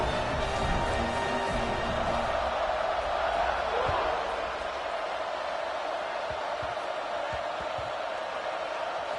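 A broad, steady roar from a stadium crowd fills a football video game, College Madden, swelling slightly at first and then holding as a continuous dense wash.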